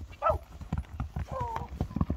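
A horse walks slowly with a close, rhythmic clip-clop of hooves while someone talks over it.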